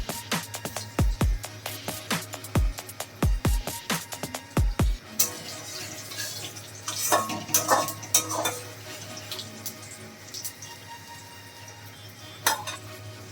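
Cumin seeds and a dried red chilli fry in hot oil: a soft sizzle runs beneath sharp metallic clinks and knocks of a utensil against the pan, bunched early, then scattered stirring clatter, close, with no voices.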